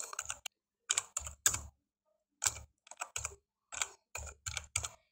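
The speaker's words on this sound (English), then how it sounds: "Now you type your text." Typing text on a computer keyboard while entering a label in AutoCAD: clusters of crisp, close key clicks in short bursts separated by brief pauses, with no talking.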